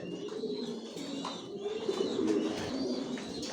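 Imported racer pigeons kept in a loft, some sitting on eggs, cooing in low repeated throaty calls close by, with a few faint chirps and rustles and no talking.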